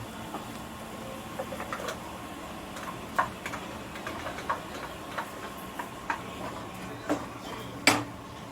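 A kitchen gas stove igniter clicks while the burner is lit, with scattered faint ticks over a steady background hum.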